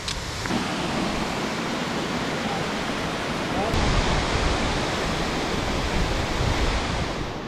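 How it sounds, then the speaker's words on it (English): A massive waterfall in a mountain valley near a glacier roars as a steady, dense wash of broadband noise that holds loud and constant throughout, with no voices standing out above it. "we're climbing right next to this massive waterfall"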